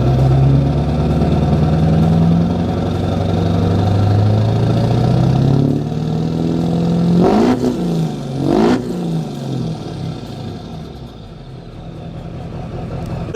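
A Duramax LB7 diesel pickup engine runs loudly nearby, a low rumble that swells with a couple of throttle blips before easing back toward a steady idle.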